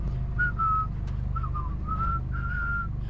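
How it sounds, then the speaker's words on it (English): A person whistles a cheerful, bouncy melody in short, clear phrases, close and alone over a low engine-like hum aboard a Broadwater boat. "Just purse your lips and whistle, that's the thing."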